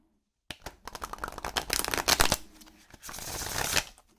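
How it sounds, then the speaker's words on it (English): A Renaissance Tarot deck being riffle and bridge shuffled by hand: a fast, close fluttering burr of card edges, a brief pause, then a second riffle cascade, heard alone. "it is a nice rifle and bridge shuffle once I get my hands around them"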